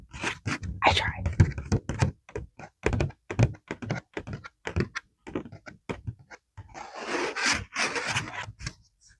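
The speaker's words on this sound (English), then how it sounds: "I'm gonna try to get in some ASMR paper sounds." Paper rustles and crinkles close up in short irregular bursts, with taps and scratches and a longer crumpling rush near the end.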